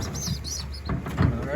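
Pigeons coo softly in a loft, low murmuring calls with a few higher chirps from young birds, close by and fairly quiet.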